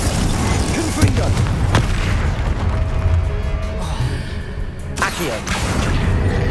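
A Confringo blast spell firing in Hogwarts Legacy, heard as loud booming bursts over dense, continuous game sound effects and ambience, with sharp hits near the 1- and 5-second marks.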